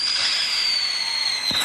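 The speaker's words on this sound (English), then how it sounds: "we're going to go ahead and do our daytime fireworks" Daytime fireworks at a large family's New Year's Eve celebration give off a loud, continuous high whistling hiss that shifts in pitch for just under two seconds, with no voices.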